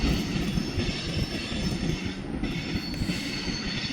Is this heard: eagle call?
no